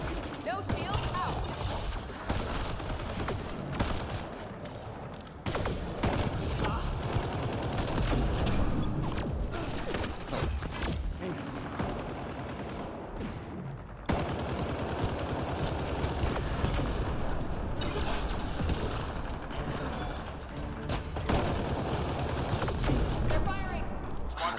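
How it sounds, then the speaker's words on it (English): Enemy gunfire in Mass Effect Andromeda multiplayer, sustained bursts of rapid shots and mechanical clatter filling most of the stretch, loud and dense, with voices talking over the combat. "They're firing."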